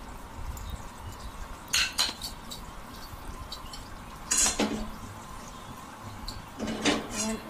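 Hilsa fish curry, seasoned with cumin and coriander powder, is stirred in a pan: a spoon clinks and scrapes against the metal three times in short bursts over a steady sizzle, with no talk.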